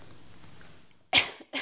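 A single short, sharp cough up close, followed by a smaller second burst after quiet background hiss.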